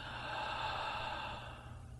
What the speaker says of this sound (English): take a slow, deep breath in through your nose and exhale out your mouth